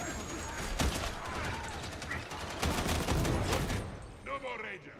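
Rapid automatic bursts from an infantry autogun in the video game Darktide, loud and close, rattle in dense volleys that pause briefly before another long burst, then trail off near the end with a voice speaking.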